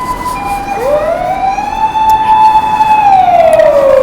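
Emergency vehicle siren heard outside a home between two stations, a single loud wailing tone that rises, holds steady and then falls away, over a constant background hum.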